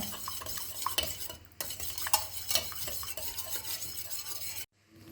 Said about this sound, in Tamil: இந்த தண்ணியிலே இந்த உப்பை கரைய வச்சுருங்க.